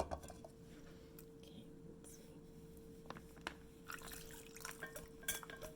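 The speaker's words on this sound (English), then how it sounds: "Gonna just stir up the marinade one last time before I pour it in the bag." A marinade for Asian chicken bites stirred in a bowl, with garlic and brown sugar: quiet liquid swishing and a few light spoon clinks against the dish, close and soft, with faint whispery voice sounds underneath.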